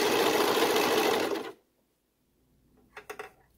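Serger overlocking a neckband onto knit fabric, a loud dense whirr that cuts off abruptly, followed by near silence and a few faint clicks of handling.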